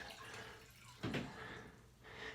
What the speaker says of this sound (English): So that water is just draining in a matter of seconds.